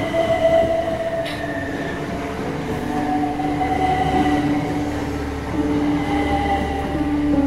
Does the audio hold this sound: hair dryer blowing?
no